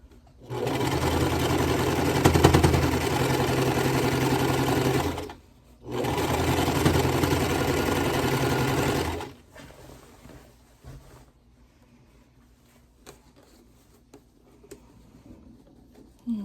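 Two loud bursts of a sewing machine stitching through a thick, knotted quilt seam, separated by a brief pause, followed by quieter ticks and handling noises.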